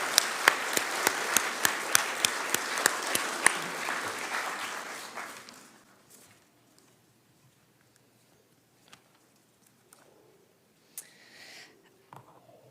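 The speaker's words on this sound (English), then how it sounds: "So everybody, round of applause for our Golden Apple winners." Graduation ceremony crowd applauding for award winners, with dense clapping and a few louder sharp claps in front, fading after about six seconds to a quiet room with scattered knocks.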